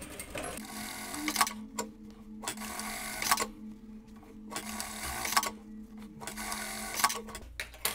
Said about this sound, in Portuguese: vou costurar com meio centímetro da borda essas duas pences aqui